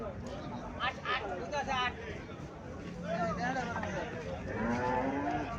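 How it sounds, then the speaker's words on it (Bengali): A Holstein Friesian dairy cow moos at a cattle market, with several drawn-out calls close by amid people talking and general crowd noise. "এখানে একটা হোলিস্টেম ফ্রিজিয়াম জাতের গাভী দেখা যাইতেছে।"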